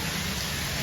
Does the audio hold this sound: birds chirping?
no